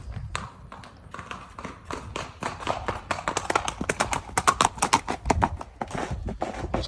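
A four-year-old ranch and hill horse prospect lopes at a short, easy gait, its hooves beating in a steady repeating clip-clop rhythm that grows louder and closer over several seconds.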